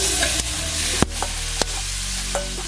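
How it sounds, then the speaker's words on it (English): Marinated pork sizzles and crackles steadily in a hot wok, with a few sharp clanks of a utensil against the pan over the constant frying hiss. "drop your marinated pork right in, and you should hear this sound"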